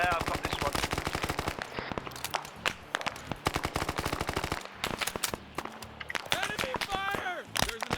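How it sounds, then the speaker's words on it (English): Enemy machine gun fire in a Vietnam War video game, rapid bursts of loud sharp shots with brief gaps, later mixed with scattered single shots and voices talking. "Enemy fire! There's an enemy. Machine gunner."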